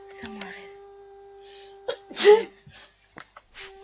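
A single sharp sneeze bursts out over a steady background hum, with a few soft breaths and small noises around it.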